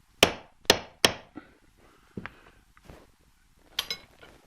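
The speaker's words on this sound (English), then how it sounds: "I can tap it in with a hammer." Three sharp metallic hammer taps in quick succession on a socket, tapping a part into a Titan 840i paint sprayer pump, then a few lighter knocks and another pair of taps near the end, close and clear.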